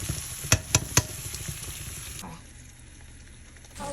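Beans fry in a pan as a spoon stirs them, giving a few sharp scraping clacks over a steady soft sizzle that fades quieter partway through.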